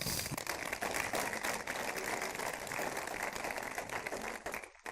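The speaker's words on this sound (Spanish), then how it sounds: "Dale un aplauso a Jesús." A church congregation applauding during a service, dense continuous clapping that sounds close and busy, holding steady for a few seconds before cutting off abruptly.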